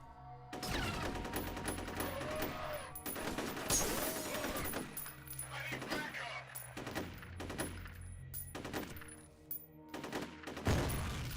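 Heavy firefight in the shooter F.E.A.R., with repeated rifle bursts and single shots echoing loud and near, one deeper blast partway through, all over a droning ambient background.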